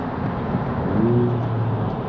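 Steady interior drone of a 10th gen Honda Civic Si cruising at night, an even engine and road hum with a brief rising tonal whine in the middle, no talking.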